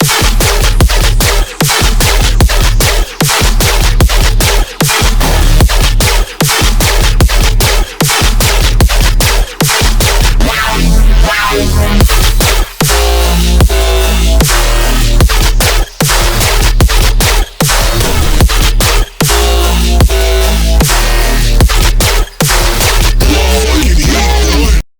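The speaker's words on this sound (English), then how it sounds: "how to do this SUBBY dubstep gun bass" A subby dubstep gun bass made in Serum pounds through a loud, dense electronic track, with heavy low end and sharp rhythmic stabs broken by brief regular gaps. It plays continuously for the whole stretch, with no voices.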